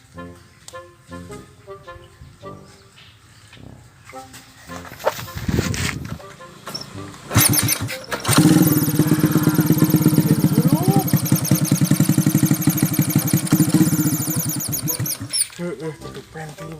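A motorcycle engine starts up and settles into a loud, steady running rumble at close range after several seconds of quieter handling sounds, in a Sundanese village setting.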